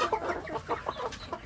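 Free-range village chickens cluck in short, irregular bursts, close and fairly clear over a quiet background.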